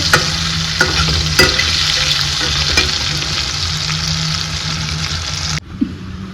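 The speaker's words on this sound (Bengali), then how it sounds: "এদিকে আলুটা ভাজা হচ্ছে।" Potatoes fry in oil in a pan with a loud, continuous sizzle, periodic scraping knocks of stirring, and a low hum beneath, before the sound cuts abruptly near the end.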